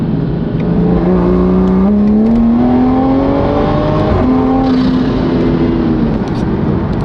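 A Toyota Supra fitted with a drag pack accelerates hard in second gear, its engine note climbing steadily in pitch with a loud, close, continuous roar that briefly drops at a shift-like dip before rising again.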